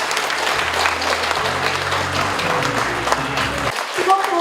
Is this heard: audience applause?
yes